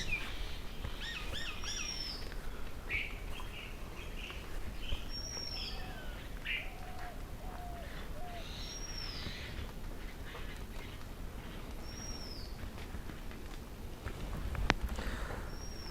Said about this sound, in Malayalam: പക്ഷികളുടെ സൗണ്ട് ഒന്ന് നോക്കി.